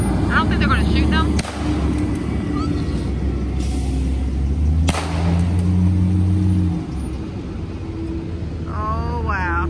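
Police officers in Tennessee fire guns to scare bears off a road, a few loud sharp shots heard from outdoors, with idling vehicle engines humming steadily underneath and people talking nearby.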